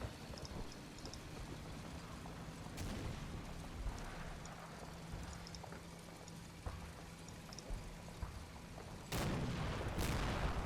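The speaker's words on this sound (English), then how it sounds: "Oh no, they are getting mortared." Mortar rounds land in the Combat Mission: Battle for Normandy war game: a continuous rumbling, crackling bed of distant fire punctuated by sharp blasts, with two louder, closer impacts near the end.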